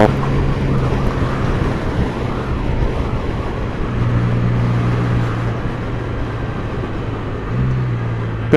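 A Can-Am Ryker three-wheeler ridden on the road at Watton, its engine drone rising and shifting pitch through a gear change, loud and steady under heavy rushing wind noise.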